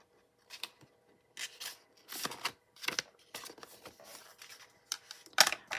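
Paper banknotes, a £10 note among them, are handled and slipped into an envelope during cash stuffing, producing close, crisp rustles and slides in short separate bursts with quiet gaps between them.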